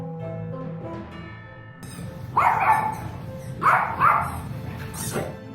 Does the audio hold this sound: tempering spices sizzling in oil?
no